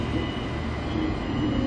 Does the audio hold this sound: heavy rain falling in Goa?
no